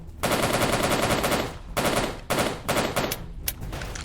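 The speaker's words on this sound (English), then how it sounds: "I'm going to switch to the AK-47 now." Sustained bursts of AK-47 rifle fire in a Soviet soldier video game, loud and close, in three long automatic volleys separated by brief pauses, with no talk.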